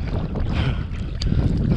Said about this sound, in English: Wind just came up.